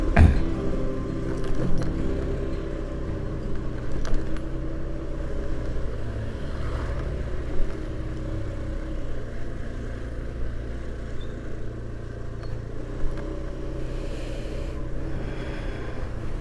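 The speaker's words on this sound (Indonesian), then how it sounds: "Ada mobil maju" A car drives along a road ahead, its low engine hum steady and moderately close throughout, with a few small bumps and clicks along the way.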